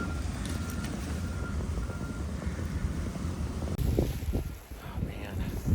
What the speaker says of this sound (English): This is really crazy out here. The wind is blowing.